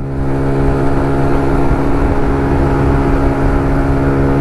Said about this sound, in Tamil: ஃபுல் த்ராட்டில் தான் இருக்குது வண்டி